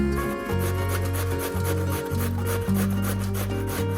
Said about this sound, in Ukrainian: а після моркви натираємо дві картоплини